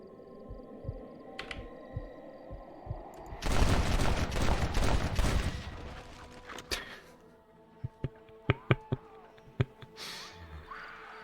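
Gunfire rings out in Red Dead Redemption: a loud, rapid burst of shots lasts a couple of seconds, then a quieter lull, then a series of sharp, single cracks in quick succession.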